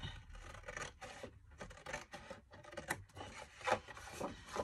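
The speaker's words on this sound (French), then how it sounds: "Je découpe. Là, et je découpe ce côté aussi." Paper card stock being cut for handmade card making, giving a steady run of dry rasping, scraping strokes up close, fairly quiet and continuous with small bursts, no voices over it.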